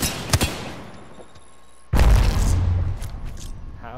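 A sudden loud electric blast from an arc star grenade in Apex Legends, a sharp broadband burst followed by a sustained crackling rumble that lingers for about two seconds, with brief impacts and a faint tone before it.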